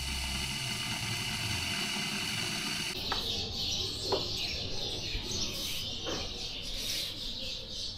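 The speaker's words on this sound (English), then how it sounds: "The Haveli is also home to a lot of birds, जिनकी cacophony आप अभी सुन सकते हैं." Many birds chatter and chirp around an old haveli in Jodhpur, bright overlapping calls at middle distance over a steady low engine-like hum.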